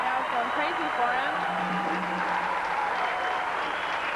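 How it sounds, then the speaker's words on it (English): A home crowd cheers and applauds at a 1993 NCAA women's Division II volleyball Elite Eight match between Northern Michigan and New Haven, a continuous roar under a commentator's voice. "This crowd right now is going crazy for them."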